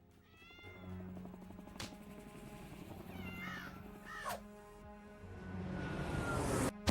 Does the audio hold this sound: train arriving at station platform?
no